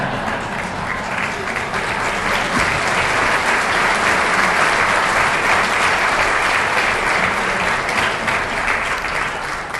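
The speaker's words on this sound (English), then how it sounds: "Even the people in the next room are clapping for that." Sustained applause from a crowd in an adjoining room during an address to mayors by a New Jersey State Police colonel, steady and fairly loud throughout, with no speech over it.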